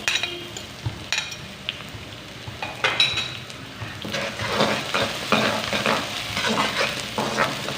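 Garlic, ginger and onion fry in a pan with a steady sizzle, broken by the repeated scrape and clatter of a spatula stirring, growing busier and louder toward the end, with no talk.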